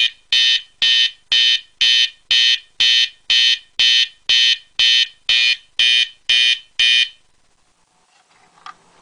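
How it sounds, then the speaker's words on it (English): A fire alarm in a basement sounds after its pull station is pulled, giving about fourteen loud, evenly spaced electronic horn blasts before stopping, followed by faint handling noise. "So here's a demonstration."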